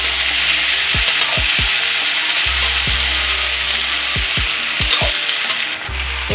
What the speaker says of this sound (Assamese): মই কাটি লোৱা জিকা আৰু বিলাহীখিনি দি দিছোঁ এতিয়া মই ইয়াক ভালদৰে এনেকৈ লৰাই দিছোঁ